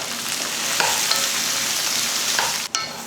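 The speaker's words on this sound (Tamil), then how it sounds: "துருவின கேரட் சேர்த்துக்கலாம் சேர்த்துட்டு இப்போ கலந்து விட்ருவோம்" Chickpea sundal being stirred in a pan with masala, coconut and grated carrot: a short burst of close, steady sizzling with soft stirring scrapes and no voices.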